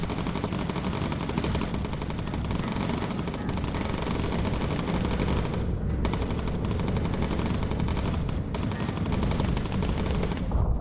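Bomber gunners fire machine guns during a North Africa campaign mission in the Bomber Crew: USAAF video game, a dense, unbroken rattle of rapid gunfire that stays loud and steady throughout.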